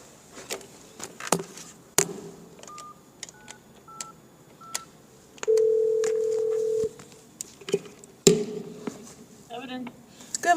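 A telephone dials a call to a department to arrange a property pickup: a quick series of touch-tone beeps, then a long steady tone, with clicks and handling noise around it.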